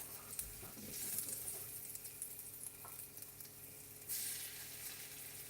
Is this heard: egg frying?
yes